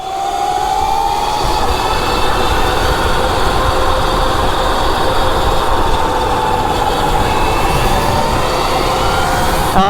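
Razor electric mini bikes riding fast, giving a loud, steady high-pitched motor whine that rises slightly in pitch, continuous and close throughout, with no talking.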